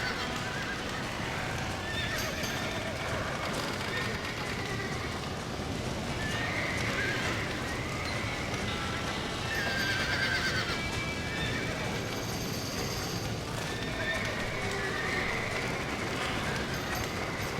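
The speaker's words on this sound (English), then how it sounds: "Now let's save the horses." Horses whinny and hooves clip-clop in Red Dead Redemption, a Wild West video game, with repeated neighs over steady trotting and a rumbling backdrop.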